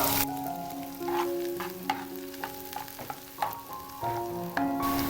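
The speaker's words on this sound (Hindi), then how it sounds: "लहसुन को थोड़ा सा फ्राई करने के बाद" Finely chopped garlic sizzles and fries in hot oil, a steady crackling hiss with occasional stirring clinks from a utensil against the pan.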